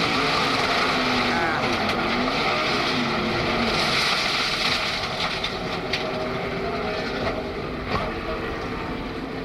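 Onboard a NASCAR stock car during the 2003 Ford 400, driven by Kurt Busch, with a loud, continuous engine roar and rushing wind and road noise that hold steady throughout.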